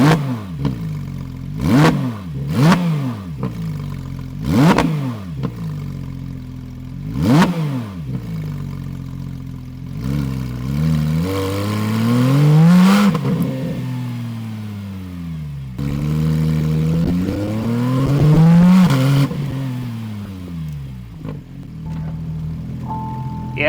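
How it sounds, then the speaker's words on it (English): Porsche GT3 RS fitted with an aftermarket exhaust, revved loudly and close by in a string of sharp blips that rise and fall, followed by two longer, drawn-out revs with a rough idle between them. "How dare they put an exhaust and rev the car?"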